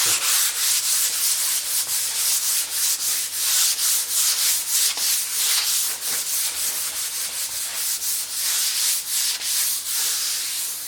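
Hand sanding painted concrete stairs with worn sandpaper, a close rhythmic hiss of rubbing strokes repeating steadily at a brisk pace over a faint low hum.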